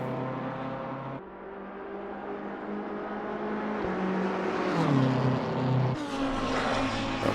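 BMW race car at Bathurst heard from on board, its engine droning loud and steady with harmonic pitch sweeps as it revs up, shifts and revs again over about seven seconds, no voices.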